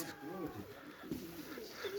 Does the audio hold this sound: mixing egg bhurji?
no